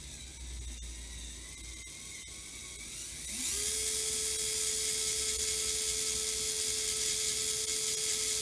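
Quiet at first, then an SCX24 Jeep Gladiator mini RC crawler's drivetrain whirs up and keeps running with a steady high whine and slight rotational rub over a hissy background.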